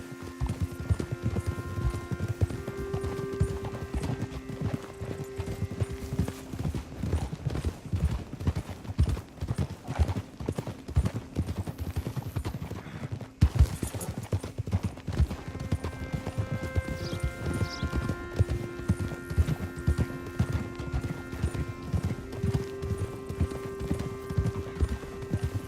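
Steady clip-clop of a horse's hooves in Red Dead Redemption 2, rhythmic and continuous under game ambience, with a brief pause midway and an occasional whinny.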